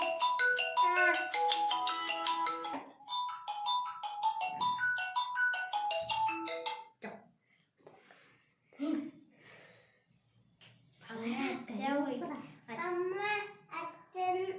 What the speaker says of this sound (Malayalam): മോനെ ആരാ ഫോൺ വിളിക്കണ്ട്?